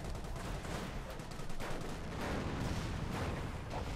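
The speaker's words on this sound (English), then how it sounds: "Second barrage following up here." A 25-pounder artillery barrage rumbles in the World War II strategy game Company of Heroes, a dense, continuous wash of booming blasts, faint and distant throughout.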